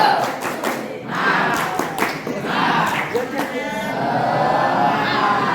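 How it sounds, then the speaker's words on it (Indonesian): Ninth- and eighth-grade students at a school farewell for two teachers break into a rhythmic spirit clap, sharp group claps and thumps rising and falling amid shouting voices. "Tepuk semangat."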